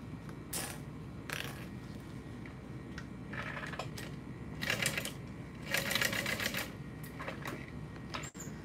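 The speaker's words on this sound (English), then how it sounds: "let me go ahead and sew that down" A sewing machine stitching down a backpack strap, short bursts of rapid mechanical needle clatter separated by brief pauses, moderately close and fairly quiet.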